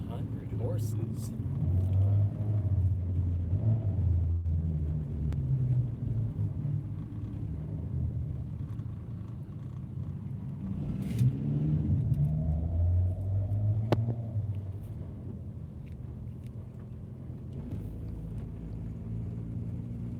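A car engine on a dynamometer roars and drones steadily at high load, its pitch rising and falling over a deep rumble, with people talking under the noise.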